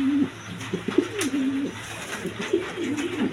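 Red Gorra pigeons, a pair of females, giving close, repeated low rolling coos in quick throaty phrases, with faint background noise.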